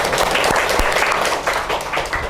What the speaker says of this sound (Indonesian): Oke, kita beri tepuk tangan untuk kelompok 3.